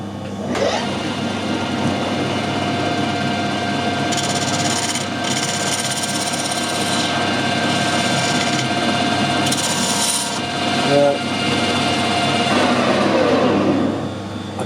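A lathe machines the end of a scrap steel piece square, a steady close cutting and scraping drone with a high metallic ring and brief harsher bursts of tool contact running throughout.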